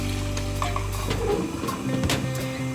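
Water and brown sugar being stirred together in a pot in a home kitchen: a scraping, swishing stir against the metal pan over a low steady hum, close and clear, with no talking.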